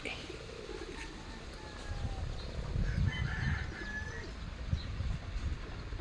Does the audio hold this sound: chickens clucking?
yes